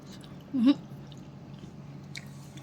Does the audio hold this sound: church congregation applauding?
no